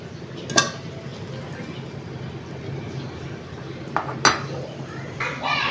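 A utensil stirs garam masala into a fish curry in a pan, giving a few sharp metallic clinks against the metal amid soft scraping and the low bubble of the pan.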